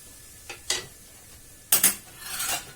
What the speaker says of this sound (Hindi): अब सारे मसाले को हम भून लेंगे इस तरीके से